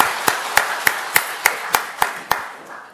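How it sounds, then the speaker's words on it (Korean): A church congregation claps in unison with eight steady, evenly spaced claps that ring slightly in the hall before fading out. "하나님께 영광의 박수를 보내겠습니다."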